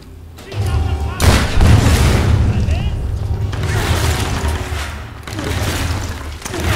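Grenade blasts in Tomb Raider, two heavy booming explosions with long rumbling tails filling the space, loud and close, followed by a further muffled boom, with a voice faintly present.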